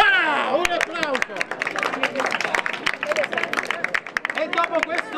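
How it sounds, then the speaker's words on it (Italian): Crowd applause at a track and field race awards event, a dense patter of clapping under a loud voice talking over it, steady throughout. "Voilà, un applauso."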